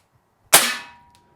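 A single sharp shot from a Diana Bandit PCP .177 bolt-action pellet pistol, filled to maximum pressure, cracks loudly and close, then decays quickly into silence.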